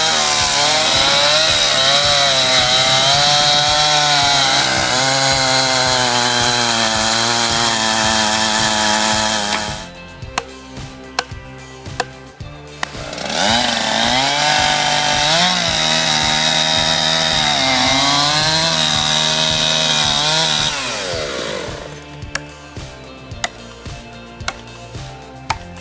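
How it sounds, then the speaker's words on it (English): A chainsaw with a roughly 24-inch bar screams loudly at high revs while felling a tree, drops to a sputtering idle, then bites in again for a long second cut before idling. "just pure instinct guiding that chainsaw, maybe a 24-inch bar"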